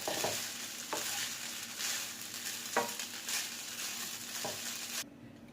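Vegetable fried rice being stirred in a hot pan, with a steady sizzle and fry broken by scraping strokes of the spatula at irregular intervals, close and fairly loud, then cut off abruptly near the end.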